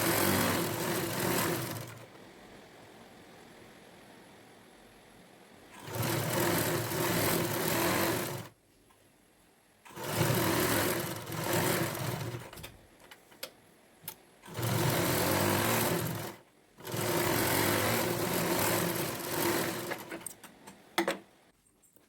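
A sewing machine stitches along the side of a pillow cover in four separate runs, each a steady whirring burst of several seconds broken by short quiet pauses, close and fairly loud.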